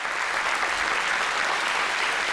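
Steady, dense applause from a studio audience, loud and continuous throughout with no pauses.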